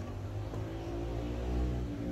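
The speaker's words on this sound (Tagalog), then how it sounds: "umuugong yung compressor" Steady low mechanical hum with a droning tonal buzz from a stuck Hitachi 0.5hp non-inverter window air conditioner compressor running close by, constant and unbroken.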